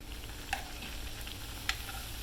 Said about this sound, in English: Don't put them crab cakes in there unless that oil is good and hot